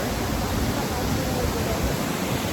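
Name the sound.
Rupse waterfall in Nepal roaring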